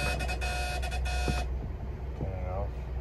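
A boat's anchor watch alarm beeps steadily as a rapid electronic tone from a marine navigation display while at anchor, loud for about a second and a half before being cut off, followed by quieter background noise.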